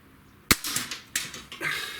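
Hatsan Model 25 SuperTact Vortex air rifle fired at a shotgun shell target: one sharp, loud crack followed by a few softer knocks and rattles, then a second fainter pop with its own short clatter, no talk.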